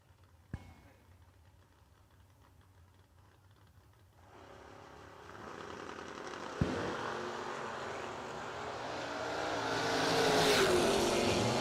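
Drag race cars, a silver Nova and a big GTO, run down the strip at Kil-Kare, their engine roar building from a distant rumble into a loud, sustained blare toward the end, with a sharp bang early on.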